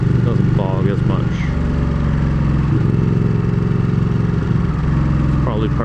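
A 2016 Ducati 959 Panigale motorcycle engine runs at low revs, a loud, steady, throbbing drone heard up close during a ride, with a brief shift in pitch partway through.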